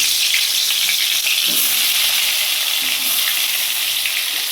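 Chicken and new potatoes, rubbed with salt and turmeric, fry in hot oil with a dense, constant sizzle and crackle close by, along with a few faint stirring knocks, and no voices.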